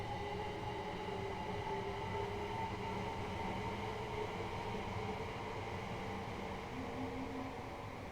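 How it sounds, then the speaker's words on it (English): A Southeastern Class 375 electric train on the HighSpeed line to Rochester in Train Sim World 4 gives a steady, low rumbling drone with faint tonal motor whine, constant and fairly quiet throughout with no talking. "There's our train."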